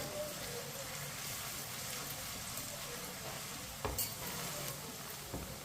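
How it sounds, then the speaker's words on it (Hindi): Onions browning in oil as a spoon stirs them: a soft, continuous sizzle with scraping strokes and a couple of louder clatters near the end. "प्याज को इसी तरह चम्मच चलाते हुए ब्राउन कर लेंगे"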